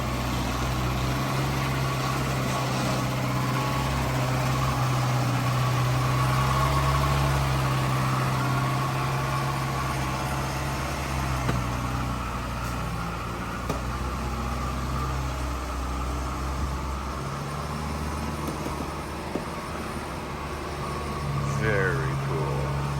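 A high-strung Lotus 2.2 engine idles steadily as the car pulls out of a driveway, a constant low rumble with faint mechanical ticks and a few brief bumps, while people talk over it.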